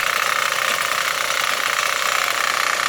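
The small engine of an FMTK back rotary power weeder runs steadily at high revs, a constant buzzing drone with no pauses or voices.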